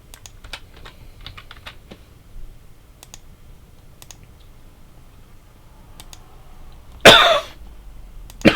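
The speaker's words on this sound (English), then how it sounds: "This cough I've got, this is caused by a mixture of hunger and having too much energy drink." A single sharp cough bursts out near the end, standing above a steady stream of close computer-keyboard typing and clicks; no one speaks.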